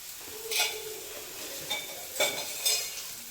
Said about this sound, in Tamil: இப்போ கடாய் ஹீட் ஆகிடுச்சு நம்ம நல்லெண்ணெய் ஊற்றிக்குவோம்